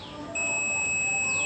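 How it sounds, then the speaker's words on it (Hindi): A multimeter gives a steady high-pitched beep while its probes test a loudspeaker at home, the tone starting a third of a second in and holding constant to the end alone. "तो जैसा कि आप देख रहे हैं बीप साउंड आ रहा है,"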